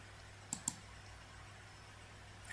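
Two quick, crisp computer keyboard key presses for a copy-and-paste shortcut sound close together at low level over faint room hiss.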